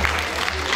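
A brief burst of audience applause at a concert, a dense, fairly loud wash of clapping lasting under a second.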